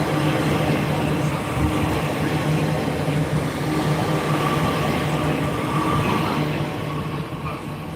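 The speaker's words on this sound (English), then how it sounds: "Please stand clear of the platform edge. Fast train approaching." A fast train thunders steadily through Slateford station at close range, a continuous loud rumble with a low hum, easing slightly toward the end.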